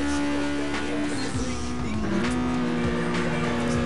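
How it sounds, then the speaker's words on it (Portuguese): A car in a racing video game drifts with its engine droning and shifting pitch under steady throttle, a continuous close roar with faint tire noise, while a voice talks briefly over it. "Ó o drift que eu vou fazer."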